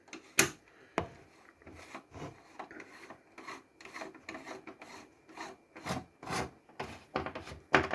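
A screw is turned out of a Fidelity 4-40 music centre, giving faint, uneven scraping and rasping squeaks in short bursts with small clicks between them, heard alone in a quiet room.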